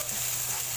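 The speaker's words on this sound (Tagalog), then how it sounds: "Yan, gigisa mo lang ng ganyan." Ingredients sizzle and fry steadily in a pan while being sautéed for chicken rice valenciana, a close, continuous hiss with no talk.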